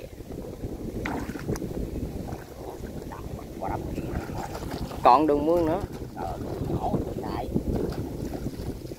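Wind gusts outdoors on the water during a catfish-hunting outing by boat, rumbling steadily against the microphone while people talk and a boat hums along.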